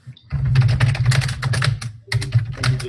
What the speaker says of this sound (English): We hear a lot of typing.